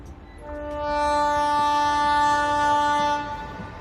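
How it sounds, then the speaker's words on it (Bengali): Train horn or whistle sounding loudly and steadily for about three seconds over low rumbling rail noise as a train begins to pull away, a sound effect in a Bengali audio drama. "খেয়াল হলো ট্রেন নড়ে উঠতে"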